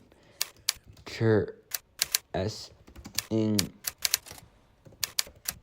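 Computer keyboard keys clacked in short uneven bursts close up, with gaps where a person talks over the typing.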